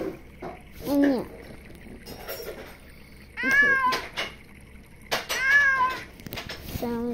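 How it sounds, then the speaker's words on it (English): A kitten in a video game meows several times, with clear high, wavering calls over a low background hum. "Oh, there's a kitten."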